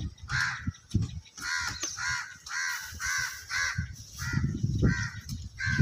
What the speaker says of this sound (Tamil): பாருங்க காக்கா வம்பு பண்ணுது